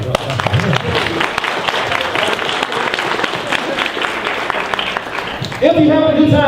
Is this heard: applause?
yes